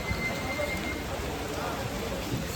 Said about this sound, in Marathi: तो पाऊस आहे चालू.